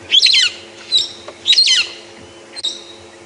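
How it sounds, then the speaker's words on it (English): Brown-headed parrot calling from a tree in the early-morning bush of a South African game reserve: a few shrill, squawky screeches with short whistled notes between, fairly close and clear, no talk. "today we have now stalked a brown-headed parrot. So we heard him calling"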